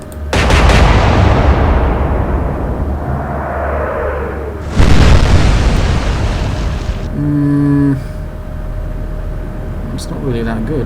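Naval guns fire in the Atlantic Fleet game, Royal Navy against Kriegsmarine, with two loud booming blasts several seconds apart over an ocean wash, followed by short tonal warship sounds and faint later thuds; a voice speaks briefly.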